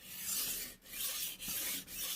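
Knife steel rasping back and forth on a Japanese whetstone, steady close scraping strokes with three brief pauses between passes, soft and alone.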